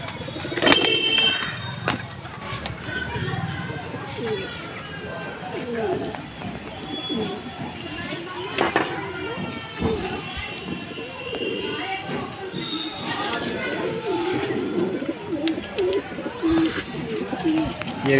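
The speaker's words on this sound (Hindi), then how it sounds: "तो चलिए अब बाहर सारे कबूतर को दिखाते हैं।" Domestic pigeons released from their loft murmur and coo outdoors, soft low calls scattered through a busy background with wing flaps and bumps, while someone talks over much of it.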